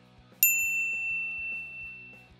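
A single bright notification bell strikes once and rings out with a long, fading shimmer, heard over a faint, rhythmic background of music.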